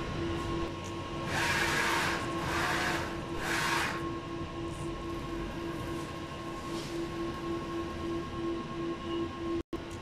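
A sublimation printer runs a head clean followed by a nozzle check, giving a steady mechanical hum with a sustained tone and three brief swells of carriage movement near the start, then an even running drone.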